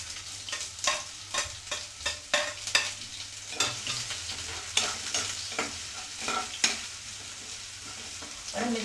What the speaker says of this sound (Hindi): तो हमारा तेल गर्म हो गया तो इसमें मैं डालूंगी बारीक चॉप किए हुए प्याज।